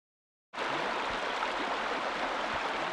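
After a brief silence, a creek in the Idaho desert starts up as a steady, close rush of flowing water that continues evenly with no voices.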